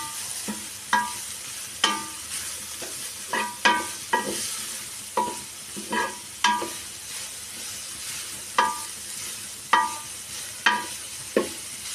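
Grated papaya thoran fries in a pan, with a steady sizzle underneath and about a dozen sharp scraping stirs of a spatula at close range in an uneven rhythm.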